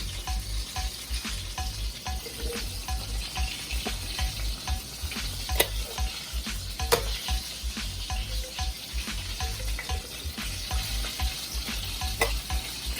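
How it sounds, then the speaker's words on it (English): Carrots, potatoes and butter beans going into a simmering oxtail stew produce a soft, steady sizzle with scattered light stirs and faint clinks of utensil on pot throughout, and no talking. "I'll add my carrots, my potatoes, I'll also add some grace butter beans."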